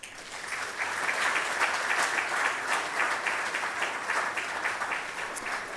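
Audience applause at a genomic medicine building event, a steady, moderately loud patter of many hands clapping in a hall, continuous with slight rhythmic pulses.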